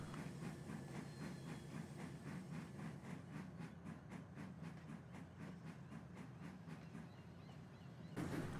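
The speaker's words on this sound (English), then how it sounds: "Porter was just finishing shunting his train." Steam engine shunting trucks in an animated train series, a steady rhythmic chuffing and hiss with faint clanking, moderately loud and continuous, ending in a louder rush of steam.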